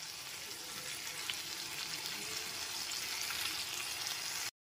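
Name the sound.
fried paneer stirred into sizzling capsicum in pan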